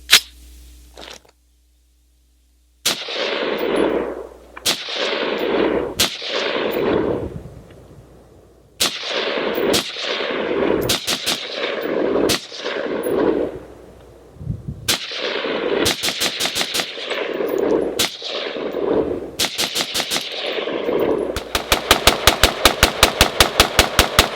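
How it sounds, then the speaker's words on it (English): An AR-15 pistol fitted with a Trijicon Reflex RX34 red dot fires rounds down range outdoors, sharp loud reports echoing in spaced singles and pairs, quickening into a rapid string near the end. "I'm going to send a few rounds down range just to see how it reacts with the new optic on top of it."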